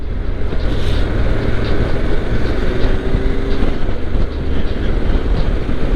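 A motorcycle engine drones loudly and steadily throughout, close up while the bike is ridden through West Croydon in London, with rushing road and wind noise and no talk.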